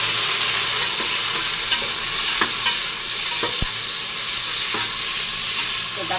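Steady, loud sizzling of chopped tomatoes frying in a pan for beef soup, with a few scraping stirs and clinks, no voices.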